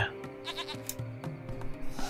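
A goat in a video game bleats in a few short, nasal, wavering calls, close and fairly quiet, over a low steady background hum.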